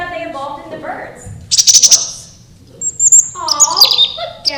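Bright bird chirps and tweets in quick bursts, with lower hooting, owl-like calls between them, close and fairly loud over a faint background.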